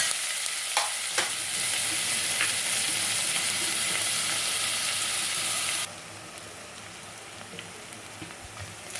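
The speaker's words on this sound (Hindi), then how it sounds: "कांदा हमारा हल्का सा फ्राई हो चुका है" Onion fries lightly in a pan for Sindhi seyal bhaji, a continuous close sizzle with a few stirring clicks, dropping noticeably quieter for the last few seconds.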